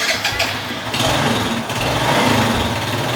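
A car's starter cranks the engine during a battery cold-cranking-amps test, a loud, steady, churning mechanical drone that runs unbroken for about three seconds.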